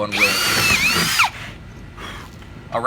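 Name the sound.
power drill drilling holes in a wooden board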